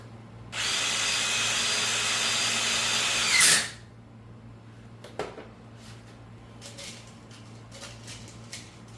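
Power drill driving a screw into a small interconnector, one steady high whine lasting about three seconds that ends abruptly, followed by faint handling clicks and rustling.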